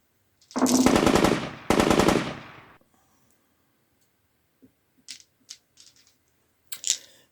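Two long bursts of rapid light machine gun fire ring out close and loud in a tabletop wargame battle, followed by a few short faint clicks and a final brief sharp burst.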